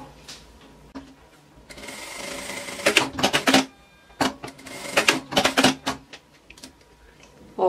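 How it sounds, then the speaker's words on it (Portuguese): A sewing machine stitches a seam around fabric in several fast mechanical bursts of rattling stitching, separated by short pauses, heard up close. "Eu vou passar uma costura aqui, aqui e aqui, ó."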